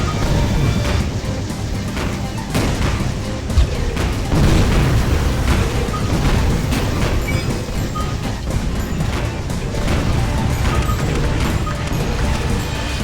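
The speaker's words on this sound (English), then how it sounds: "Enemies will flash when they start running low on health and eventually explode" Enemies explode in the PC first-person shooter Tower of Guns, with booming blasts and crashes layered over constant loud gunfire and game music, with no pause between them.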